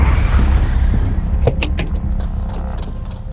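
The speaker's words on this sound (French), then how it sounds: "Le moteur de la Ford rugit." A Ford car engine rumbles loudly up close at first, then the roar gradually fades, with a few brief metallic jangles and clicks cutting through near the middle.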